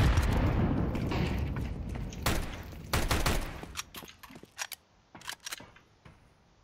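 AK rifle fire in Counter-Strike: a dense, loud automatic burst at first, then sharp single shots and short bursts cracking in an irregular rhythm, close and punchy.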